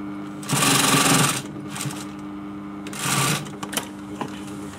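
Sewing machine stitching new piping onto an upholstery cushion cover, running in two loud close bursts with a few short stitch taps between them.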